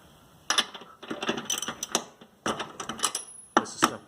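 Ratchet wrench with a 13/16 socket loosening the spark plug on a Toro push mower, giving several close, rapid bursts of clicking with short pauses between strokes.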